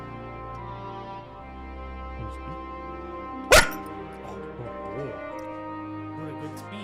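A large dog gives a single sharp bark midway, loud and close, standing out against ongoing soft background tones and a quiet voice.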